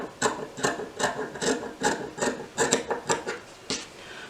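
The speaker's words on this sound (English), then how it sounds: "I'm just going to cut off these two little selvage edges." Scissors cut off the narrow selvage edges of fabric strap pieces for a small boxy tote, a quick series of crisp snipping and rasping strokes, close and steady, with no talking.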